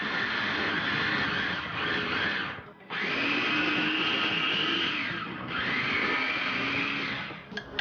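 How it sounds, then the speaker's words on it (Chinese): A kitchen blender grinds seasoning ingredients for a sour-spicy lemon sea bass dish, its loud whirring motor running in long bursts with a brief stop near the three-second mark and a dip in pitch midway, then a few clatters at the end. "用搅拌机给它打碎。"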